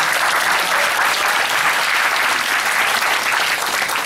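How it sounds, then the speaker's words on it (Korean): Sustained, dense audience applause fills a lecture hall at a political talk in Sangye-dong, Seoul, steady and loud throughout with no break. "박수 부탁드리겠습니다"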